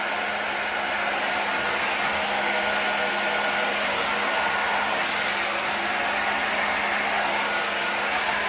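A hair dryer blows steadily on long curly hair, a continuous close, loud whoosh of air that holds even and unbroken from start to finish, with no one speaking.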